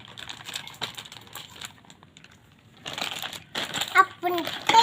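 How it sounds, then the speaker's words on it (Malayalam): A gift cover is torn open during an unboxing, giving bursts of crinkling, ripping paper that grow louder toward the end, mixed with soft handling noise and a voice in the background. "അപ്പം ഞാനത് ഈ കവർ പൊട്ടിക്കട്ടെ."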